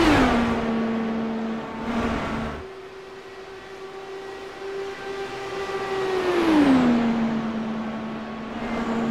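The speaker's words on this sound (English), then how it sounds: "let's enjoy some more sound of the IndyCar." A high-pitched IndyCar racing engine in a video game at Indianapolis Motor Speedway whines steadily, drops briefly as it lifts off, then climbs and shifts down again, loud and close with no voices.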